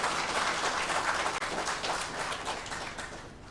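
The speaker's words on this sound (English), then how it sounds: "Let's welcome him with the biggest round of applause." An audience at an investors' awareness meeting in a hall in Imphal applauds to welcome a speaker on stage, a dense, steady round of clapping that fades slightly toward the end.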